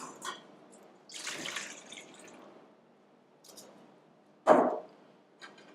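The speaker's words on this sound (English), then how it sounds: "What I want to first start out with is pouring the coffee in the first bowl." Coffee is poured into a bowl for tiramisu in a few separate splashy pours, close and moderately quiet, with the last pour the loudest and no talking.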